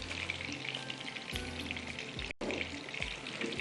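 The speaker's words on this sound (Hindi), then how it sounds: "यहाँ पर अब इसको थोड़ा सा फ्राई होने देते हैं।" Minced meat koftas made from a kilo of keema fry in a karahi-style pan, giving a steady, close crackling sizzle that runs continuously with a brief break near the end, with no talking.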